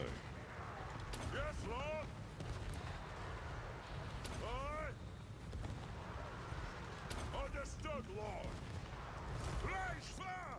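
Gyro bomber bombs explode in Total War Warhammer 3 as a series of deep booms over a constant battle din, with someone talking over them throughout.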